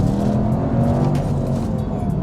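A 310bhp CUPRA Leon Sportstourer pulls away from a stop, its engine giving a steady low rumble with a slight rise in revs, heard from close by inside or near the car and with no talk over it.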